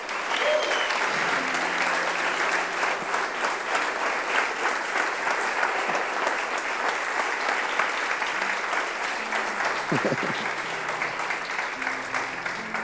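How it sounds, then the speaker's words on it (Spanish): A church congregation applauding, a long, steady, dense clapping that fills the hall, with a voice and music heard faintly beneath. "Aplaudile al Rey de Gloria."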